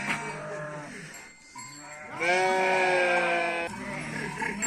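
Sheep bleat loudly nearby in a village, several drawn-out wavering calls overlapping one another, with a longer, stronger bleat in the middle.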